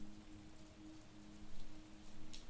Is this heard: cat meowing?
no